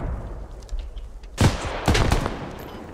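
Gunfire in the game Squad, two or three sharp bursts of shots near the middle, close and loud, with fainter scattered shots and low ambient noise before and after.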